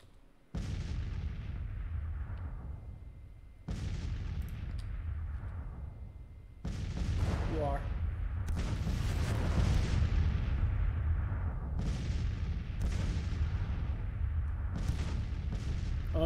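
Heavy artillery cannon fire in the Civil War strategy game Grand Tactician, set at Vicksburg: a string of deep booming blasts, each rolling and decaying, then overlapping into a sustained rumble of continuous fire.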